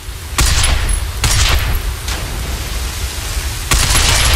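A few loud, sharp gunshots ring out in Binary Domain, spaced irregularly with a broad hissing crack each time over steady background noise.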